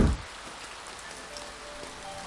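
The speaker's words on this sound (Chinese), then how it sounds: "是不是因为这场无法停歇的大雨？" Heavy rain pours down steadily in a continuous, dense hiss, with a brief louder burst at the very start and no voices.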